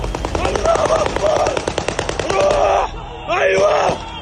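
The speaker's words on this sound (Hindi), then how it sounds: "हमास के आतंकी लगातार गोलियां बरसा रहे थे।" Hamas militants fire guns continuously, with rapid bursts of automatic gunfire, sharp repeated cracks and shouting voices mixed in, loud and close.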